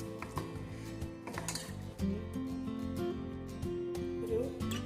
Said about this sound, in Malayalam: ഇനി ഇത് നന്നായിട്ട് ഇളക്കി നമുക്കൊന്ന് മിക്സ് ചെയ്യാം.